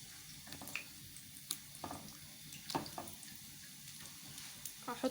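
Cauliflower pieces fry in hot oil with a faint, steady sizzle, broken by a few soft pops and clicks as they bubble, heard alone at low volume.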